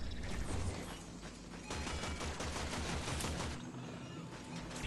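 Gunfire in the video game Warframe: dense rapid mechanical firing bursts under game ambience, fairly quiet and continuous across the clip.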